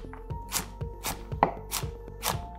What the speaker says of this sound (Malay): potong memanjang dan kemudian potong dadu kecil